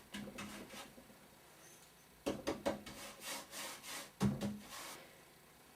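Bristle brush swirling paste wax into heavily textured wood furniture, a soft close rubbing and scrubbing in uneven bursts, with a few louder strokes and no talk.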